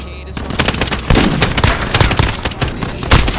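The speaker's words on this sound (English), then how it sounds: "Enemy sentry gun active." Rapid automatic gunfire from an enemy sentry gun in a multiplayer shooter, dense bursts of sharp cracks rattling continuously and loud throughout, with other battle noise layered in.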